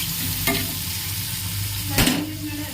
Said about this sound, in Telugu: కొద్దిగా దూరగా మనం అనేది కలుపుకుంటూ ఫ్రై చేసుకోవాలి.